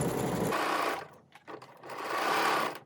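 A sewing machine stitches a checked-fabric blouse slowly around a curve, its motor whirring steadily, pausing briefly in the middle as the needle is left down and the presser foot raised, then running again close up.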